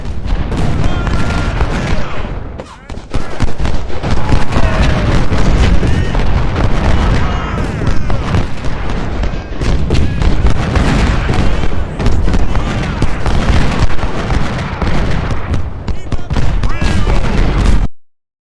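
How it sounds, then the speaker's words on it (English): Dense, continuous battlefield din of artillery and musket fire in the Ultimate General Civil War game, Antietam battle with cannon on a bridge; loud booms and crackling volleys roll on without pause for about eighteen seconds, briefly dipping near the start. "Oh, there's some artillery on the bridge."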